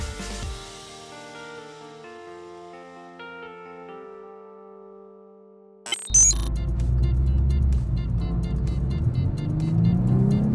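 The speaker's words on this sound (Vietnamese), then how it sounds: "Bây giờ tôi sẽ đi ra đường trường xem chiếc xe này vận hành ở đường trường như thế nào." A Volkswagen Scirocco R driving on an open road, heard as a sudden loud engine roar and tire rumble after a fading musical intro, then sustained strong engine and road noise.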